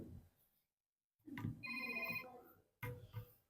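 A mobile phone rings indoors, a steady electronic ringtone in two bursts separated by a short pause, with faint low room noise around it.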